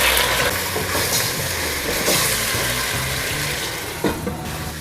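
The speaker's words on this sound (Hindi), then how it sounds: "हमने चिकन को अच्छी तरह फ्राई करना है।" Chicken frying in a karahi for an Eid-style spicy chicken karahi, a steady dense sizzle with crackle and occasional stirring clatter, loud and continuous throughout with no talking.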